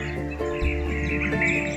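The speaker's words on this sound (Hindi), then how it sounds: "हाँ बुलबुल देखो जी" Bulbul birds calling from a tree in a rural Punjab setting, a busy mix of chirps and tweets at moderate distance with a steady background hum beneath them.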